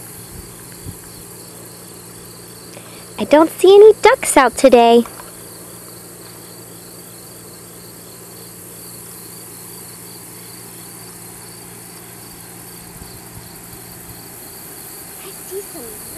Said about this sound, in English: Do you hear all those crickets